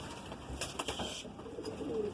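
A Madrasi pigeon gives a brief, soft coo nearby against a faint hum of background noise, with no voices.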